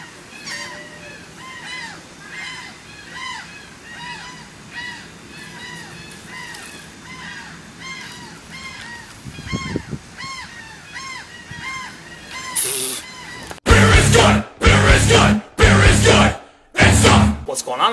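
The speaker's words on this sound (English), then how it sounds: "I can't get away from these damn seagulls." Seagulls call repeatedly nearby in a rhythmic series of squawks over outdoor background noise, followed by several loud, broad bursts of rustling or wind buffeting near the end.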